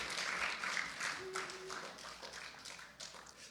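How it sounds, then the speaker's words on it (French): A church congregation claps together at a Sunday service, a steady wash of applause that stays fairly even and moderately loud, then thins toward the end. "Est-ce que vous pouvez applaudir?"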